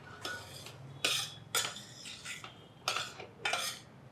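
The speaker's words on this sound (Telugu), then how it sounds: "రవ్వ నేతిలో 1 కప్పు రవ్వ వేయించేసుకుందాం." A spoon scrapes and stirs through semolina roasting in ghee in a pan, giving about six separate metallic scraping strokes at an uneven pace, close and clear over a quiet background.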